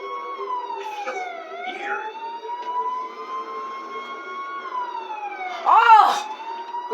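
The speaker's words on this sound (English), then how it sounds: "How do I shut my siren off?" A police car siren wails in a video game, its tone sweeping up and down continuously at moderate volume, with a brief louder burst of game effects near the end.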